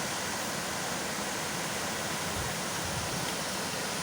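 Dumkussella waterfall at Wewelwatta in Ratnapura, running high after recent rain, roars as a steady, dense broadband rush of falling water with no pauses and no voices.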